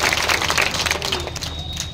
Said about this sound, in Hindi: जोरदार ताली बजाकर के स्वागत करें